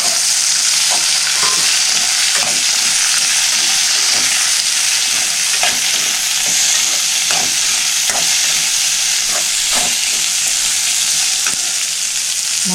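Onions frying in a pan for poori masala, a continuous dense sizzle with repeated scraping stirs of a spoon against the pan, close and steady with no talking.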